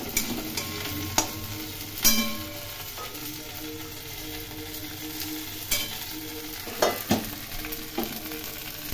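Chili powder and Kashmiri chili powder sauté in oil, a soft sizzle punctuated by repeated sharp spatula scrapes and knocks against the pan at an uneven pace.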